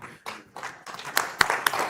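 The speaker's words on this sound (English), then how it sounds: "Yes, go ahead and clap." Scattered clapping from an audience at an investment summit in London, arriving in uneven bursts with a few sharp, close hand claps rather than a full ovation.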